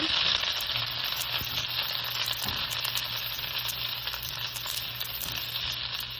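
Steady, loud sizzling of garlic frying in a hot pan, continuous hiss throughout with occasional faint stirring.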